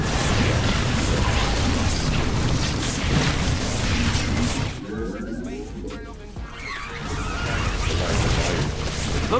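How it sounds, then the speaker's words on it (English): A base being destroyed in the StarCraft 2 video game, with dense crashing explosions and booms under a voice speaking, briefly thinning to a lull before the loud destruction resumes. "Those explosions you hear, that's your base being flattened."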